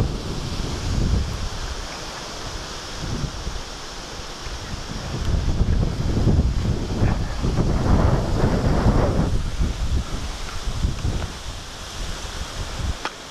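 Strong wind roars and buffets outdoors during a mountain ride past snowy peaks under stormy clouds, a continuous loud rush that swells in the middle and stays steady to the end, with no talking.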